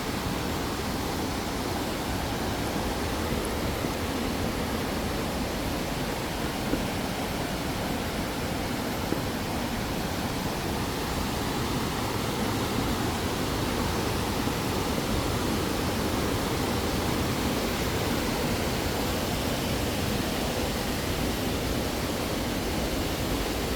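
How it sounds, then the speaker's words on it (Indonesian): A river flowing near Curug Jenggala waterfall in Banyumas gives a constant, even rushing roar that stays steady and unbroken throughout, with no talk. "Nah, ini sungainya."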